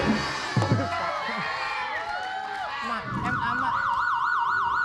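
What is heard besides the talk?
siren sound effect on a comedy show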